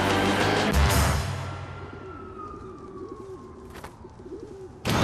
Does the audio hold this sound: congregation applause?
no